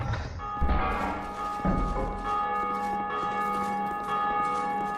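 Bell in the Dark Souls II video game, rung from a tower by pulling a lever, opening with a couple of heavy thuds and then ringing out in a long, resonant metallic tone that hums on steadily with no voices.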